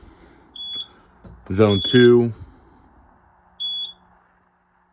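A fire alarm panel in audible test mode gives two short, bright electronic beeps, one before and one after a man's brief spoken words, in a quiet indoor room.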